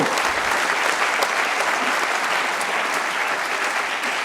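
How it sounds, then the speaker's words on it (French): Audience applause at a twentieth-anniversary celebration evening for Initiative Savoie, a dense, steady burst of many hands clapping that holds at an even level throughout, close and full with no voices standing out. "On peut applaudir mais bon."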